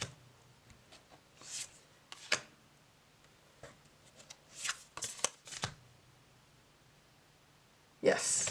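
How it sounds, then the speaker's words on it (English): Lubanko tarot cards being shuffled in several short, crisp bursts of riffling and flicking, close and fairly quiet, separated by brief pauses. "And I did want to share the shuffle. it does shuffle very nicely."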